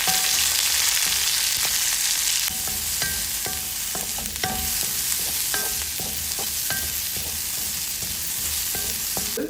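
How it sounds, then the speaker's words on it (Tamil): Curry leaves are sautéed and stirred in hot oil for a Tamil-style greens stir-fry, with a loud, dense sizzle throughout, broken by repeated scraping stirs of a spoon in the pan. No talking. "இப்ப இதை நல்லா எண்ணெயில வதக்கி விடுங்க."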